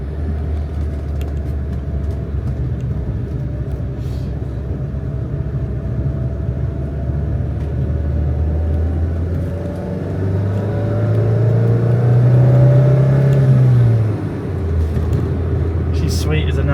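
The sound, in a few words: classic Renault R16 car engine running after rebuild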